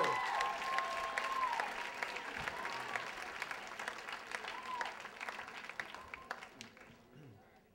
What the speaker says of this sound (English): Big round of applause for Ben Moskowitz as he comes up here.